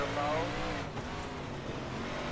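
A 358 modified race car engine in iRacing drones at high revs while throttling through the corners at Lernerville dirt track, a loud continuous tone that dips briefly and holds, with speech partly over it.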